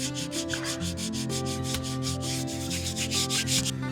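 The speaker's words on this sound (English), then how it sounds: "It goes on, gets smoothed down, left to cure, and then sanded back." Sanding body filler on a cracked plastic Volvo 740 dashboard, steady rhythmic back-and-forth abrasive strokes, close and continuous, over a faint background hum.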